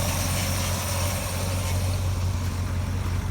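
A vehicle engine idles steadily at its first start of the season, a loud, continuous low rumble close by with no talking.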